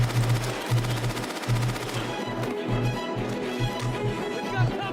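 Rapid video game gunfire from an Xbox and Bethesda showcase, a steady fast rattle of shots running continuously at moderate loudness with a low rumbling bed beneath.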